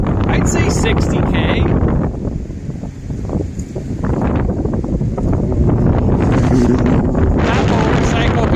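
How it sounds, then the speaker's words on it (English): Strong cold-front wind on the Lake Huron shore at Brights Grove, Canada, roaring continuously and buffeting the microphone, loud and close with only a brief lull, as a person speaks over it. "That motorcycle guy would feel this wind here. I'm walking and it's pushing me."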